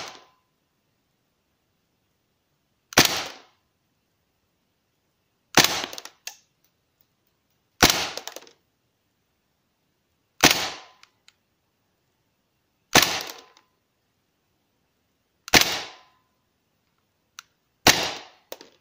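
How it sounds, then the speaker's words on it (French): A WE Desert Eagle airsoft pistol fires BBs on a warm, fully charged magazine, seven sharp single shots spaced about two to three seconds apart, each a crisp gas-blowback crack with short decay, loud and close in otherwise quiet surroundings. "j'ai tiré 10 billes sur tout le chargeur forcément"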